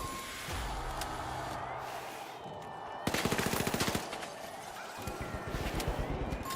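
Rifle fire in a first-person video game, rapid bursts of sharp gunshots in fast rhythmic strings, loud and close, with game effects and a brief voice-like tone beforehand.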